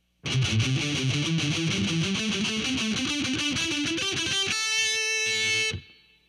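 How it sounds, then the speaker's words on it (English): A distorted electric guitar plays a fast heavy metal lick from the A pentatonic minor scale, with rapid single notes climbing steadily and then ending on a held, ringing note. It is loud and close, and it plays alone. "This lick is out of the A pentatonic minor scale."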